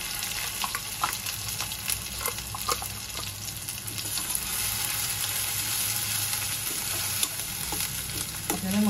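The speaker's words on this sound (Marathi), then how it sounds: "आपल्याला मसाला तेल सुटेपर्यंत परतून घ्यायचा आहे" Ground masala paste, mixed with red masala and a little water, sizzles and fries in hot oil while being stirred, with a steady crackle and occasional scraping clicks, close and continuous.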